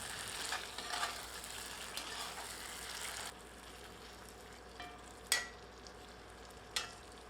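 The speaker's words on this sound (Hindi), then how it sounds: "अब इसमें तला हुआ मुर्ग सम्मिलित करते हैं। सबको अच्छी तरह मिलाते हैं।" Fried chicken stirred into a spicy South Indian Chettinad curry with a ladle: a soft frying sizzle and scraping, then quieter simmering broken by two sharp ladle clicks against the pot.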